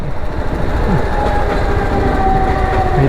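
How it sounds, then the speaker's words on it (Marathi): A local train rolls past a railway crossing, a loud continuous rumble and rattle of wagons filling the whole stretch, with faint squealing tones riding over it. "अरे लोकल आहे"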